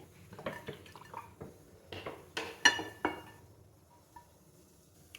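Pan for cooking chapati set on a stove amid kitchen handling, a series of sharp metallic clinks and clatters over a few seconds, quiet and close with no talk.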